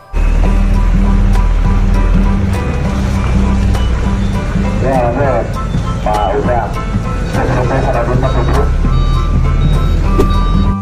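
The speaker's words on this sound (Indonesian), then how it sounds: "ini adalah mobil molen" A concrete mixer truck rumbles loudly and close, with steady engine drone, repeated reversing beeps and clattering mechanical noise, while a voice talks over it.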